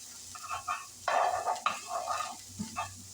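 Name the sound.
vegetables and minced garlic sizzling in a pan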